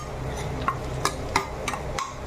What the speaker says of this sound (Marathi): आता हा हलवून घ्यायचा.